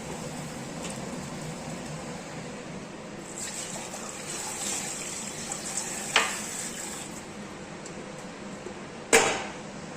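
A light sprinkle of water around a healthy pancake in a hot pan sets off a steady, close hiss of sizzling, broken by two sharp spitting pops near the middle and end.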